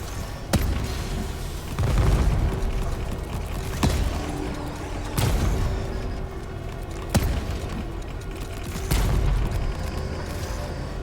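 Repeated mortar blasts in Volcanoids, a game with lava, land at roughly two-second intervals as loud low booms with broadband cracks, set over a steady mechanical drone and creaking, with no talk.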